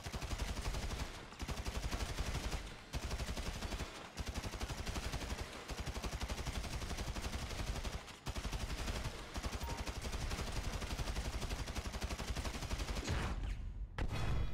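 Sustained bursts of automatic rifle fire in GTA 5, dense and loud, broken by brief gaps over about fourteen seconds with no talking.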